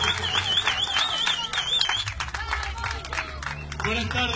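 An audience at a political gathering applauds, a burst of clapping mixed with crowd noise and a whistle, with voices carrying over it.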